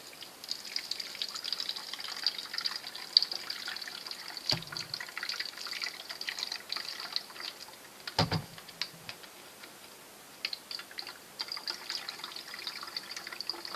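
Water trickling and splashing as a Super Soaker LightningStorm water blaster is filled indoors, a faint steady stream with a couple of sharp knocks.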